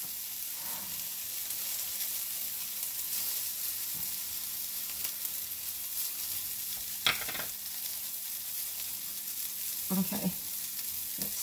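Garlic cloves frying in a stir-fry pan for a quick chicken stir fry, a soft, constant sizzle with a few scraping stirs, and a voice speaking briefly.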